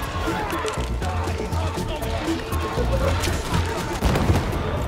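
Covering gunfire in a video game: dense, sustained bursts of rapid shots and booms overlapping continuously for several seconds, loud and close, with voices faintly underneath.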